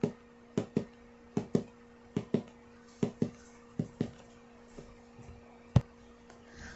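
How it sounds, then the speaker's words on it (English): Foley heartbeat made by fingers thumping on top of a Jenga box: soft paired thumps in an irregular heartbeat-like rhythm, close and fairly quiet, with a steady low hum underneath. "my first sound that I will be making is a heartbeat"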